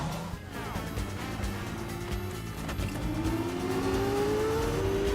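Racing car engine roars steadily with a rising pitch, mixed with mechanical clatter in a dramatic film sound-effect mix, loud and continuous throughout.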